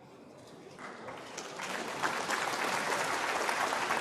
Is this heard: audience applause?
yes